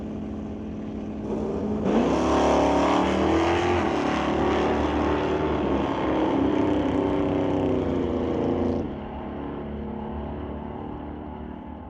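A 2002 Pontiac Firebird and a 1969 Dodge Dart drag racing in a sportsman bracket race, engines roaring loud and sustained as the cars launch and run down the strip, fading after about nine seconds.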